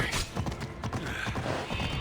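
Horse hooves clip-clop steadily in Assassin's Creed Odyssey, a fast, busy patter of hoofbeats close up under a dense game soundscape with no talking.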